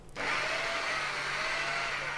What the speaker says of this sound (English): Then I use this paddle mixer to get it all mixed.